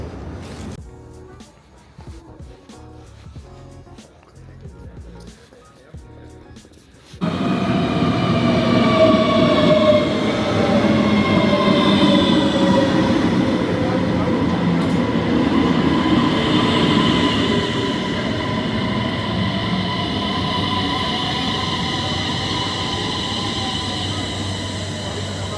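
At Malmö station, a train pulls in alongside the platform, loud and near, with a rumbling roll, rising metallic wheel squeals and long whining tones that ease off as it slows, following a quieter stretch of station ambience.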